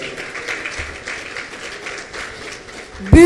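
A crowd at a hosted event in Haiti claps continuously, a steady moderate wash of applause heard from within the room, with a sudden louder knock or bump at the very end.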